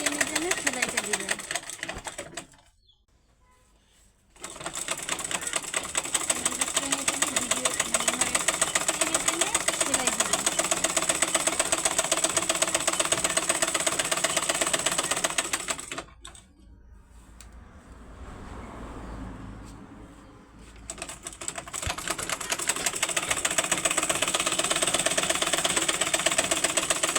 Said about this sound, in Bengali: এইভাবে আপনারা একটা মাঝ বরাবর এইভাবে টেনে টেনে সেলাইটা দিবেন